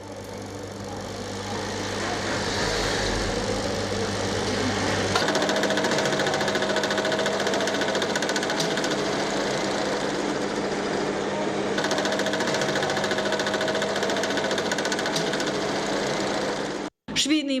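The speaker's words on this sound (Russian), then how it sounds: "В цеху установлено 45 новых швейных машин." Many sewing machines running together in a sewing workshop, a steady dense mechanical whir and rattle that continues throughout, with stitching bursts shifting in intensity and a brief cutoff near the end.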